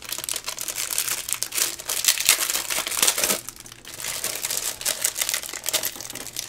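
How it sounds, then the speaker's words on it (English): Package wrapping from a spring flower pot swap crinkles and crackles loudly in close, irregular bursts as it is handled and opened, with a short lull midway and no voices. "sorry for the crinkling."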